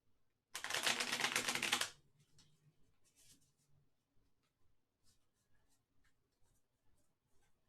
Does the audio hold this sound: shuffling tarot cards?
yes